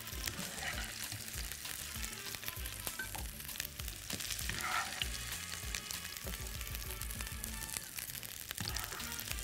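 Vegetables sautéing in ghee for a tawakil-style tajine sizzle and crackle steadily in a pan, with dense continuous frying noise and occasional stirring clicks, no talking.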